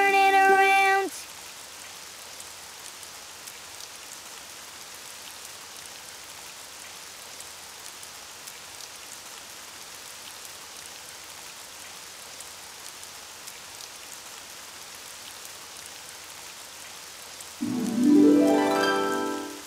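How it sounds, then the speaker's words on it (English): Steady rain falls throughout, a soft, even hiss of drops, with short bursts of other louder sounds at the very start and end. "It's raining outside."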